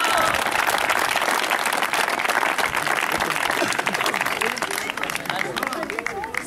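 Dense, sustained audience applause fills a hall as a village team from Sveti Kiril is honored at a Third of March celebration in Pordim, Bulgaria, steady and loud throughout with crowd babble and a voice over the clapping.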